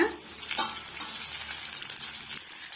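Small onions and curry leaves sautéing in hot oil for a sambar tempering, a busy crackling sizzle with occasional spoon scrapes, close and moderately loud, no voices.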